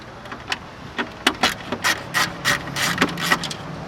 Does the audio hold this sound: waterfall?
no